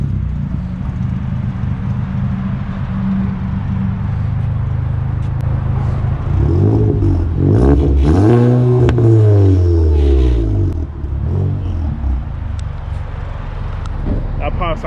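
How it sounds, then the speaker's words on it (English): A car's engine revs hard at a car meet in Houston, rising in a sweeping climb and falling back over a steady rumbling idle, loud and close, with people talking nearby. "Gonna get a little rev in real quick."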